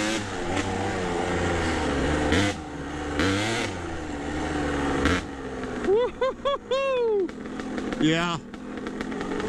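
A Kawasaki KDX200 two-stroke trail bike engine revs in sharp, rising bursts, crackling and buzzing up and down close by, with a voice speaking briefly over it.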